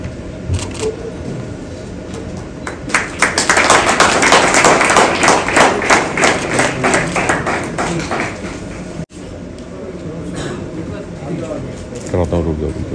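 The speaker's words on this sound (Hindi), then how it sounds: "A big round of applause, ladies and gentlemen." Applause for a government minister at a book launch, a dense wash of clapping that swells in the middle and then settles, with voices talking over it throughout.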